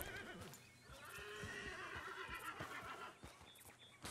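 A horse in the video game Red Dead Redemption 2 whinnies loudly with a long, quavering neigh, hooves clopping underneath against a steady game-world ambience.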